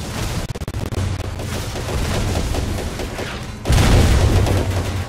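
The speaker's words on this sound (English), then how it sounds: "There's my gun charging up now. Oh, yep, hitting that tank." Heavy video game gunfire aimed at a tank, a dense barrage of booming shots and explosions, loud and close, rising to a bigger blast near the end.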